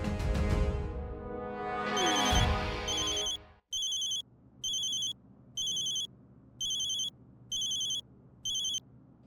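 Phone rings in a repeated electronic pattern of short bursts with regular gaps, clear and steady after a brief musical passage fades out.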